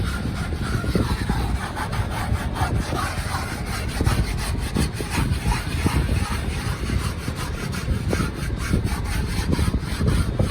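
Brisk back-and-forth scrubbing of a carpet or floor mat in a 2008 Lincoln MKX, making rapid, close rasping strokes in a steady rhythm that continues throughout.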